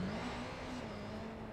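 Engine of a stolen motorcycle in the video game Watch Dogs 2, a continuous mid-pitched hum with a slight rise in revs, steady and fairly loud throughout.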